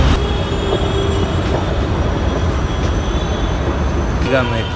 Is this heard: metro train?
yes